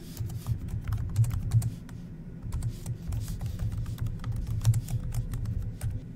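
Quiet, fairly continuous typing on a computer keyboard, with irregular light key taps clustering into short bursts and brief pauses, heard close and alone.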